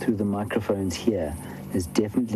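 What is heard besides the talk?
No distinct noise like a dog, phone or traffic.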